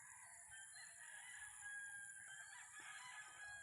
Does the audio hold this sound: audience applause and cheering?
no